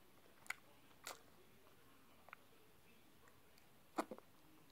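A few sharp, crisp crunches from close-up chewing of crunchy chocolate come in scattered bursts over quiet background hiss, with long pauses between bites.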